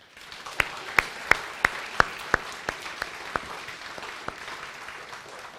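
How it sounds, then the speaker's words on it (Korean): A church congregation applauds to welcome families at a Sunday family-invitation service, a burst of sharp individual claps over a broad crowd patter that thins out over several seconds. "큰 박수 한번 하겠습니다"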